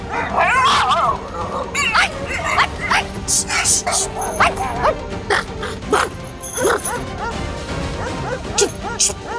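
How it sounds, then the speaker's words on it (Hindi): A dog barks, yips and whimpers at midnight, repeated sharp barks and whining cries mixed with people talking loudly over it, close and dramatic within a TV serial scene. "अरे आधी रात को कुत्ते का भौंकना और रोना अशुभ होता है।"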